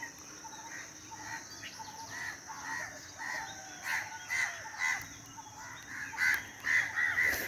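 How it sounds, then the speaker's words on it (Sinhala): Crows caw at dawn in Jaffna, Sri Lanka, a series of clear calls growing more frequent toward the end, set against a steady bed of crickets and insects with other birds faintly behind. "කපුටා."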